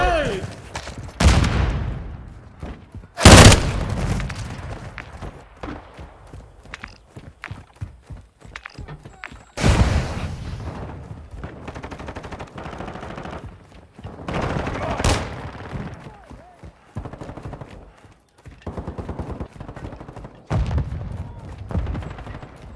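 Call of Duty Modern Warfare II Team Deathmatch gunfire rings out in loud, sharp bursts and single shots separated by quieter stretches, with footsteps and movement noise between the volleys.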